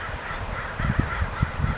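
Crow-like caws from a raven, a few harsh calls spaced irregularly over low background rumble, moderately near.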